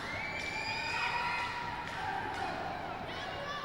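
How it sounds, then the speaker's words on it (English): Wrestling crowd at an indoor event clapping and cheering steadily, a dense continuous roar of voices with whoops rising over it throughout. "Crowd starts clapping, cheering"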